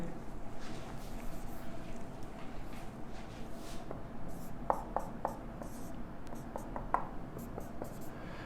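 A marker or chalk writes on a board during an organic chemistry lecture, producing faint scratchy strokes and light taps over a steady room hum.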